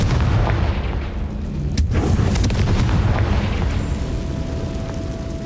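In Hogwarts Legacy, a Confringo spell detonates with a loud, booming blast, its roar rumbling and crackling for several seconds before easing off.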